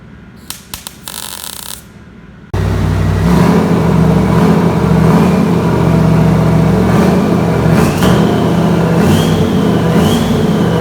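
A turbocharged Cadillac 500 V8 roars to life after a short burst of clatter, then holds a loud, steady, close engine drone with a few rising revs toward the end.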